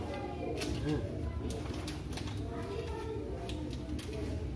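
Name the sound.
birds cooing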